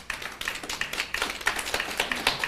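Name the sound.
audience applause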